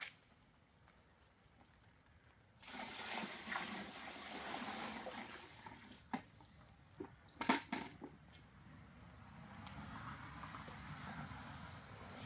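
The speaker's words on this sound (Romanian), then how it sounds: "Și voi pune așa, 10 litri de apă." Water pours into a container in a garden where fruit trees are being planted, ten litres going in as a steady rushing splash that starts partway through, with a few knocks and clatters near the end.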